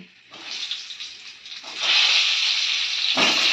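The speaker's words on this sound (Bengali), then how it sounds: "এই তেলে আলুগুলো ভেজে নেব।" Potatoes frying in hot oil for a homestyle egg and potato curry, a steady hissing sizzle that swells louder partway through and holds, close and alone.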